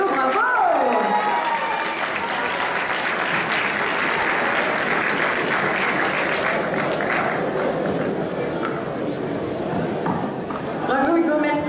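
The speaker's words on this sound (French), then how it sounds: "Sous vos applaudissements s'il vous plaît, Hugo." Sustained applause from an audience at an award ceremony, dense steady clapping filling the room for several seconds with some crowd voices and cheering mixed in, fading slightly near the end.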